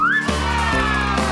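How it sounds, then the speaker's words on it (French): A cartoon-style monkey call for children learning animal sounds: a shrill, rising whistle-like squeal that turns into a loud, harmonic chattering screech, close and steady for just over a second, with no speech. "C'est un singe!"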